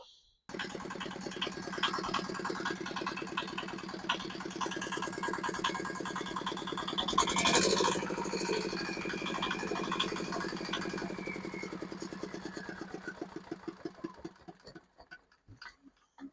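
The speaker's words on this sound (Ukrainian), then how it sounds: "мотоблок зібраний, працює" A small diesel walk-behind tractor engine idles after repair with a rapid, even knocking rhythm, fairly quiet, briefly louder midway before slowing and sputtering at the end.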